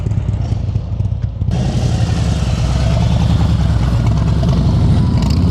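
A motorcycle ridden at slow speed through a cone course in Pennsylvania practice, a close, steady engine putter and idle-like rumble that firms up after a brief dip, running continuously without talk.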